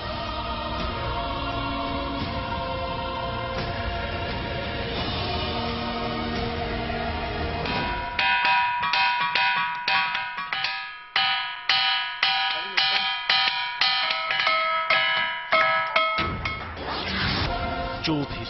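Musical stones on a hillside struck one after another, ringing like temple bells: first a dense, sustained ringing wash, then a run of sharp, clear strikes about twice a second, each with a bright decaying ring.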